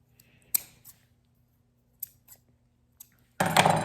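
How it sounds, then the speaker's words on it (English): A knife slicing insulation off an electrical wire while wiring an outlet: a few brief, sharp cuts and snips spaced apart in a quiet room, ending in a louder burst of scraping. "I always take the knife and then just cut this off."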